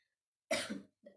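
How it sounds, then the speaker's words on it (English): A single close, sharp cough from an adult indoors, a short burst followed by a softer second hack. "I'm coughing, but I don't have corona."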